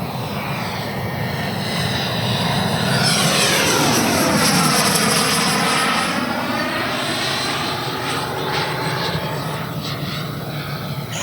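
An RC Black Horse Viper XL jet with a 100mm WeMoTec Midi EVO electric ducted fan flies past before landing, its loud, sustained turbine-like whine sweeping in pitch as it passes overhead, with no talk.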